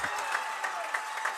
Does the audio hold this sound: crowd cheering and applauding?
yes